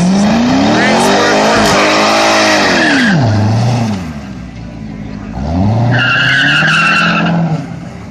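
A turbocharged D16Z6 single-cam car races an LS3 Corvette, engines revving hard with rising and falling pitch sweeps and tire squeal, loud and close, fading briefly before another loud revving pass.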